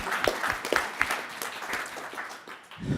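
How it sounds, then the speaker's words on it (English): A small audience applauds a debate team, a short burst of scattered claps, fairly close and fading toward the end. "big round of applause for the affirmative"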